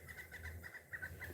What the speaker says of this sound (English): You hear that bird chirping?